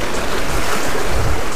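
Rough ocean surf crashing onto a beach during a morning striped bass surf-fishing outing, a dense, steady roar of breaking waves with wind noise buffeting the microphone, loud and continuous with no talk.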